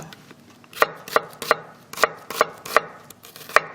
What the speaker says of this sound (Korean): 여기 뿌리 부분을 살짝 안으로 이렇게 저며내고 채를 썰면 채 썰었을 때 이게 가닥가닥 잘 끊어져요